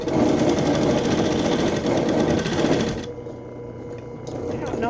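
A sewing machine stitches a seam on a fabric face mask, its steady motor whir running for about three seconds before slowing and fading, with a faint hum continuing afterward.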